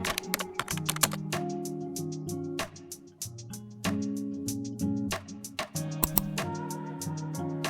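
Rapid typing on a computer keyboard while setting up user accounts on a PC, with crisp clicking keystrokes in quick bursts and brief pauses, heard close over a soft tonal background.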